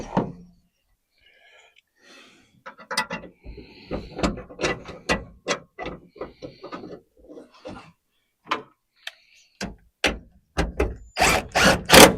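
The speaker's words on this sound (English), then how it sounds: "I'm going to pull this bolt out real quick" Close, sharp metallic clanks, ratchet clicks and taps as a bolt is worked loose and pulled from a car while tracing PCM wiring, coming in an irregular run of bursts with brief pauses and louder knocks near the end.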